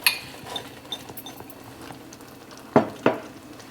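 Peas being stirred into a pan with cooking rice, a few soft scrapes and light clinks of a utensil against the pan over a quiet simmer.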